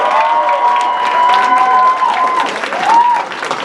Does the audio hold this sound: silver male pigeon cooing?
no